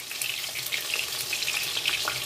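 Chitol fish pieces frying in hot oil, giving a close, steady crackling sizzle that holds evenly throughout without pause.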